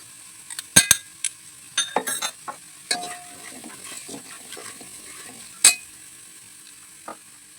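Oil sizzles softly in a pan as red chillies fry in it, while a metal spoon clinks and scrapes sharply now and then, close by.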